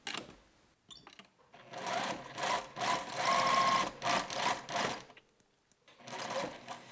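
A sewing machine stitches evenly spaced pin tucks in fabric, running in several steady bursts with brief pauses between them and no voices.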